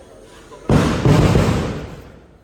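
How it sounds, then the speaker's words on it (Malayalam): Fireworks set off as a temple offering burst with a sudden loud boom, followed by a second crackling blast and a long rumbling decay that fades out. "വഴിപാടാണ് വെടിക്കെട്ട്"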